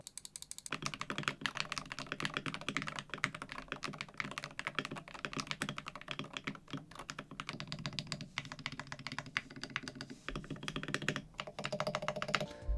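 Steady, fast typing on a modded Wooting 60HE keyboard with loop switches, lubed stabilizers and an aluminum case, a dense, close run of clacky keystrokes with deeper thocks mixed in, continuous throughout.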